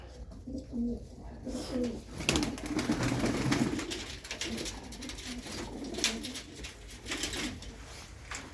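Several pigeons coo in low repeated calls at a pigeon sale, with soft rustling and handling noise and a burst of louder cooing midway, no clear talk.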